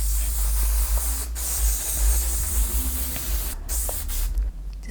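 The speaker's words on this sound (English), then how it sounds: "you can also go in with a little braid sheen spray" A spray bottle of braid sheen spray gives a few quick hissing bursts close by, set against a low steady background hum.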